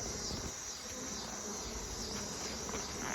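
A swarm of honeybees buzzes steadily around a beekeeper working a hive with a straw-fueled smoker, a dense continuous drone close by that fills the whole stretch without talk.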